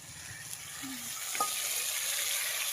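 A steady sizzle of blended tomato frying in a pan for veg manchurian, with a faint scrape of stirring partway through and no talking.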